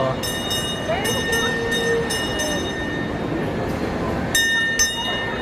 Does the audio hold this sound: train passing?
yes